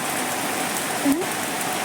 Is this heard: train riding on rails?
no